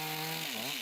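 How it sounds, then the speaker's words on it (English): Chainsaw cutting into wood during carving, a steady close buzzing drone whose pitch dips briefly as the chain loads up, with no talk. "chainsaw is just a great tool to remove wood quickly"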